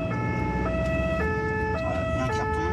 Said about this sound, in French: l'ambulance se retrouve prise au piège dans les embouteillages du périphérique parisien